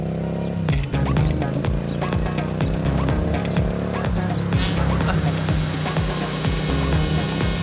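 A car drives past with its engine running and tyres squealing, loud and steady throughout, and sharp transient hits and music-like tones run over it.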